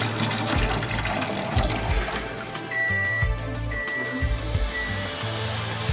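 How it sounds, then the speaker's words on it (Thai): Water poured out of a pot while cooking a holiday meal, a steady splashing gush running through the whole stretch at close range, with faint background clatter and no talk. "นี่ก็จะเทน้ำออ"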